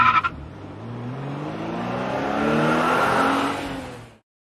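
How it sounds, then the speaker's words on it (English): A car sound effect in a real estate show, a quick whoosh and engine rev that swells as it passes and cuts off abruptly at the end. "I like the little car flying through there. Yeah, those sound effects happen in my head all the time too."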